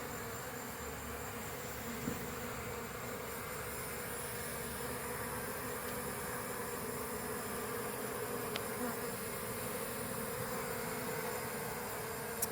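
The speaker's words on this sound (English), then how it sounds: "it's almost nightfall, and I've got most of the bees under control." Dense swarm of honeybees buzzes continuously near the listener at nightfall during a tree removal in Winter Haven, Florida, a steady loud droning hum with no pauses.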